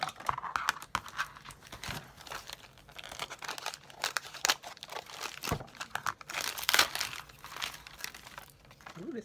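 Crinkly Christmas gift-wrapping paper being torn and crumpled in irregular bursts, close up, with short pauses between rips.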